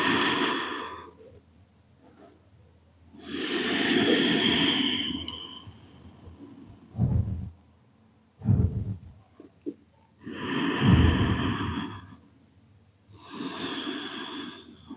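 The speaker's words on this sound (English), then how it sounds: "Continue with your breathing, a little deeper inhalations, gentle, deep inhalations here." Slow, deep breaths during a yoga session, with long airy inhales and exhales close to the microphone, separated by pauses and a few short sharper breaths in the middle.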